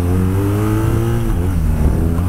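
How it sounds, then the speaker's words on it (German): A BMW R nineT motorcycle engine revs hard in first gear for a wheelie, a loud, sustained, rising roar close by that shifts pitch partway through with no pauses. "Dann schalten wir mal den ersten runter. Und dann versuchen wir mal einen Wheelie."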